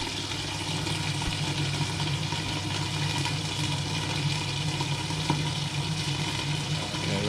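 Kitchen extractor fan running over a stove while Padron peppers cook, a steady broad whooshing drone with a low hum underneath, constant and fairly loud with no voices.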